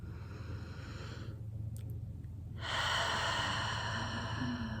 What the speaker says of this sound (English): Taking in a deep breath with intention